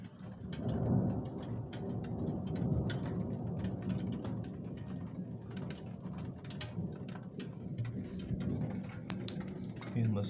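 Steady heavy rain pours during a moderate, highly electric thunderstorm in Calvados, a dense hiss with low rumbling underneath throughout.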